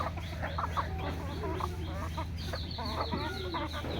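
Free-range desi chickens cluck steadily on a village farm, several birds overlapping in busy, close calls over a constant low background hum, with no talk.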